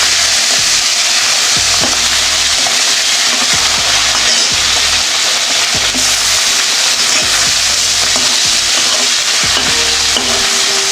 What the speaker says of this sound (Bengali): এবার মাছটা আমি ছেড়ে দেবো তেলে। তেলটা ভালো করে গরম করে নিয়েছি।